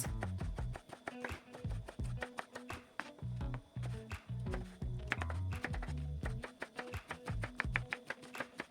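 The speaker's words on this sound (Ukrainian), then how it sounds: "Свіжий огірок помила, витерла та нарізаю кубиками." A knife dices a fresh cucumber rapidly on a cutting board, quick rhythmic taps in bursts with short pauses, close and crisp.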